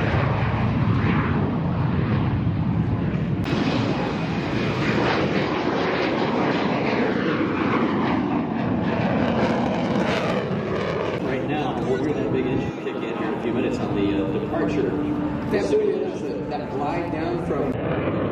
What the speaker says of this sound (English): Those calls to let him get down to the ground safely.